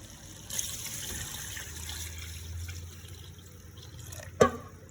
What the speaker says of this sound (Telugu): ఆ తర్వాత మనము వాటర్, చికెన్ వాటర్ ఉన్నాయి కదా, అవి వేసేద్దాం.